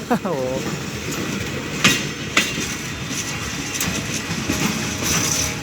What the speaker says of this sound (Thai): ไปแล้วนะครับสำหรับขบวนรถสินค้า ตู้คอนเทนเนอร์ ขบวนที่ 726 นะครับผม